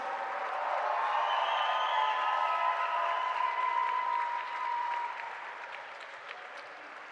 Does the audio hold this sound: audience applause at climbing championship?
yes